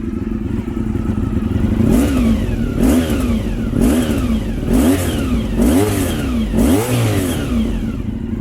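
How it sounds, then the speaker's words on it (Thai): A Honda VFR400 motorcycle engine idles loudly up close, then revs with the throttle in about six quick, evenly spaced blips that each rise and fall back to idle. "ลอง ฟังเสียงคันเร่งดูนะครับ"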